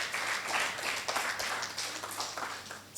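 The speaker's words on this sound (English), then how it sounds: "Please clap for that." Steady applause from a panel audience, a dense patter of clapping that holds at an even level for a few seconds.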